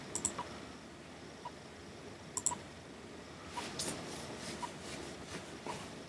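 A computer mouse clicking on an iMac in a quiet room, a few sharp isolated clicks spaced seconds apart, soft and close, with faint background noise and no talking.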